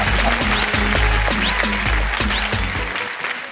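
A television quiz-show studio audience claps steadily and loudly with a dense patter, carried over background music with a regular beat, then tapering off near the end.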